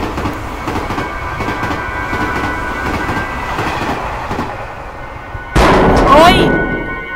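Train on railway tracks in the horror video game Tsugunohi, a loud continuous rumble with rhythmic clatter that swells sharply near the end as it passes close by.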